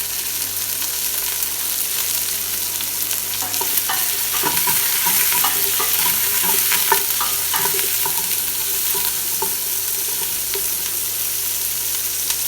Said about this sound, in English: It's onions and black pepper frying in a pan.